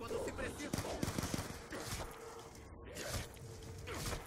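Rapid bursts of video game gunfire crackle in quick succession, with a brief pause before more shots, heard under a player talking.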